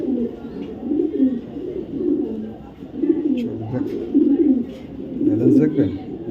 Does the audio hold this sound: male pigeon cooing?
yes